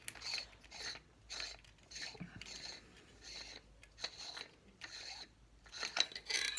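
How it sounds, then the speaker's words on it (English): A DV6 lightsaber hilt's pommel is twisted off by hand, giving a close, quiet run of rhythmic scraping, ratcheting turns separated by brief pauses. "just unscrew your pommel."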